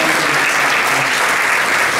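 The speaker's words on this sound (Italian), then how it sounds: "un applauso a tutti quelli che sono sempre presenti in queste occasioni" An audience in a theatre applauds before a comedy performance. The clapping is dense, loud and steady, a continuous wash of many hands with no pauses.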